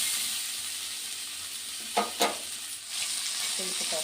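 Tomatoes cook down in a pan for beerakaya thokka pachadi, giving a close, steady sizzle and hiss broken midway by two sharp clatters.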